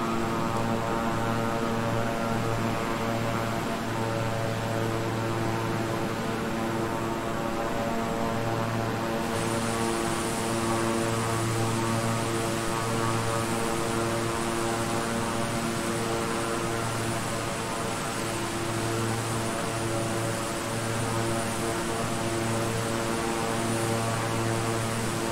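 Twin propeller engines of a King Air 350i drone steadily and loudly at reduced throttle in Microsoft Flight Simulator, a continuous close hum with pulsing low tones and no talking.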